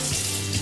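Running water flows from a tap over a juicer sieve as fingers rub it clean, a brief, close, steady splash with no talking.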